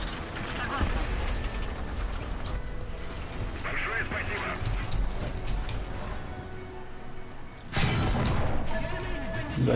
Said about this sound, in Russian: Удачный выстрел.